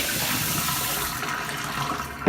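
Water rushing into and swirling around a Vitamix blender jar during a rinse, a loud, steady close splashing and gushing that tapers slightly near the end.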